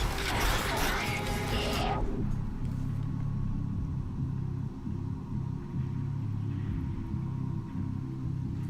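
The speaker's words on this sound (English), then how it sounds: "Yeah, alright, there's thunder." In the video game Hades, thunder opens with a loud, broad crackling crash for about two seconds, then fades into a low, steady rumble that lingers to the end.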